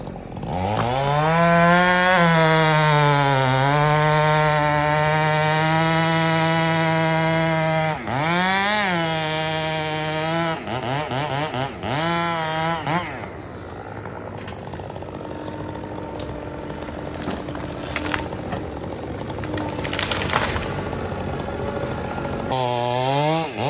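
A chainsaw engine revving up and down during carburetor tuning by ear, its high buzzing whine rising and falling several times, then dropping to a rough, rattling idle outdoors.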